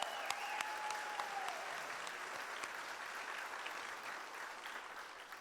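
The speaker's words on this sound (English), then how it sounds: "How about a round of applause for her?" An audience at an elementary school groundbreaking ceremony gives a steady round of applause, heard from a distance and fairly soft, with a brief tone near the start.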